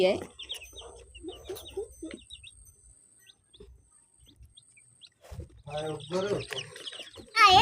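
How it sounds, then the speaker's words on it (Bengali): Tiger chicken chicks chirping in short high bursts at close range, with someone talking over them in a domestic setting. "আমার হাজবেন্ড আবার এই টাইগার মুরগির ছাও আনছে"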